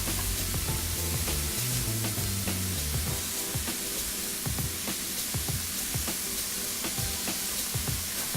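Steady, close sizzle of a mushroom mixture in a hot pan, with scattered scraping stirs throughout and soft background music underneath.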